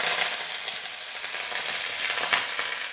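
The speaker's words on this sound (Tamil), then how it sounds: "இப்போ கடுகு நல்லா பொரியட்டும்." Mustard seeds, about four teaspoons, splutter and crackle in hot oil while being tempered for a Tamil Amavasai meal, a dense, steady stream of close, bright popping with no voices.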